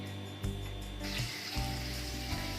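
Garlic frying gently over a low flame for a tadka for Gujarati khichdi, a soft, steady sizzle with a few brief clinks of a utensil against the pan.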